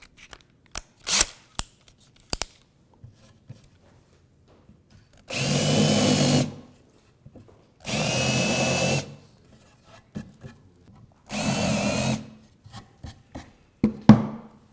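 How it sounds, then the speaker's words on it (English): Power drill countersinking screw holes in wooden table legs: three close, roughly two-second bursts of whirring and grinding, separated by pauses with sharp clicks and knocks of handling at the start and end. "I'm going to put a countersink on them"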